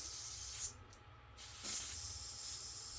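A can of compressed air blows a hissing spray, stops briefly, then resumes with a sustained, close rush of air, while cleaning Voron 2.4 3D printer linear rails.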